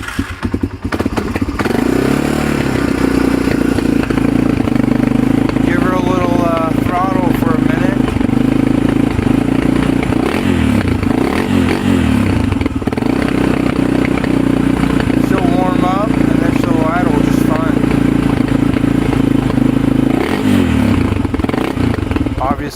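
A 1997 Honda TRX 300EX ATV idles unevenly after a cold start, its steady engine drone close and loud with wavering revs, while a voice talks over it at times.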